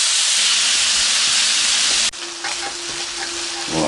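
Meat frying in a splash of olive oil in a pan, a loud steady sizzle that shifts abruptly partway through, then continues with faint stirring scrapes, with no talking.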